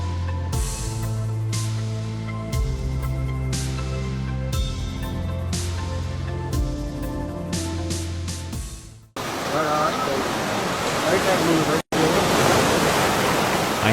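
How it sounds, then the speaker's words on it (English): A tsunami torrent of water rushes in a broad, loud continuous roar that arrives abruptly after a stretch of dramatic music, cutting out for an instant before surging on. "I am certain you'll be absolutely terrified when you witness this torrent of water"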